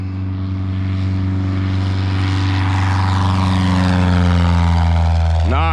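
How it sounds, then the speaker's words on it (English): A Losi 5ive-B RC car revs hard, its engine a loud, sustained drone with steady harmonics that climb in pitch as it speeds up, close to the microphone, ending in a sharp upward sweep; no one speaks. "Let's take a look at this plane taking off."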